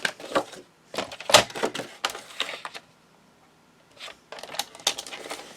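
Paper being cut to size for a handmade landscape memory book, with a run of crisp snips and rustles in short close bursts, a quiet pause, then more cutting.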